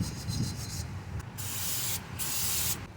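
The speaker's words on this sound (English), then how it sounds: "This is a metal brush." A metal wire brush scrubs the front brake parts of a 2018 Lexus NX 300 during a pad and rotor replacement, giving bursts of close, rough scraping and hissing that come and go over a low background hum.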